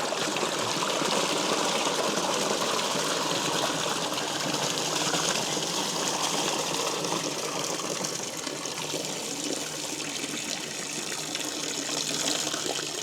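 A 12 volt bilge pump used for gold dredging pushes water out in a steady, loud, continuous gush and splash that holds unbroken from start to finish.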